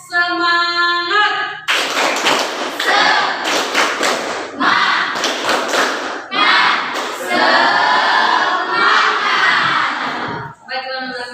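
Schoolchildren in an Indonesian classroom perform a tepuk semangat clapping chant, sharp rhythmic group claps and thuds in quick patterned bursts mixed with loud shouted chanting voices, with brief pauses between phrases.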